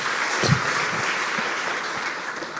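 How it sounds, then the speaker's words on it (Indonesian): A church congregation claps and cheers together in a steady, loud round of applause that fills the room without a break. "Kasih tepuk tangan yang meriah buat Tuhan."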